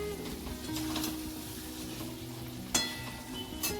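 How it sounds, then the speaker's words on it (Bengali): Meat being braised over a low flame in a pan, giving a continuous soft sizzle with a couple of brief clinks of a utensil near the end. "এখানে কিন্তু মাংসটা কষাচ্ছি"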